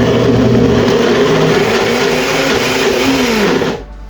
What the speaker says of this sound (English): so the blender having a hard time